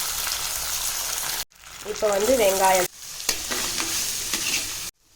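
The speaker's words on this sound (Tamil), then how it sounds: "வெங்காயம் வந்து இந்த அளவுக்கு வதங்கினா போதும்." Chopped onion, green chili and curry leaves sizzle and fry in a pan, with a few stirring scrapes between short bursts. Brief cuts break the sound, and someone speaks over it for a moment.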